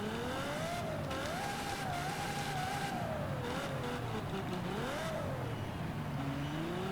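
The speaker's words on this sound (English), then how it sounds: "Lovely V12 that we've got in here." A deep, smooth V12 car engine in Forza Horizon 5 drones steadily and loudly, its pitch rising and dipping as the revs climb and settle, with no talking.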